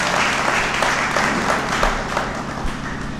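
Sustained applause fills a poetry gathering at a large national kavi sammelan held at a martyrs' memorial hall in Bhiwani, a dense, steady wash of many hands clapping throughout with no talk.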